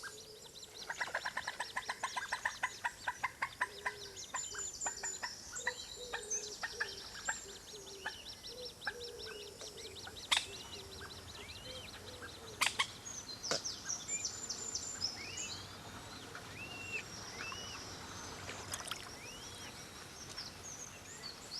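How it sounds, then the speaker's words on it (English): Bird calls at Glen Pond in Phoenix Park, where a mother coot is with two chicks: repeated short chirps and squeaky calls, with a few sharp louder notes, over steady outdoor background and no talking. "A mother coot and her two chicks and tea time."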